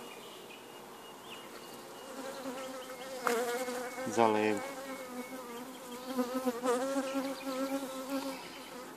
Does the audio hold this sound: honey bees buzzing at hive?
yes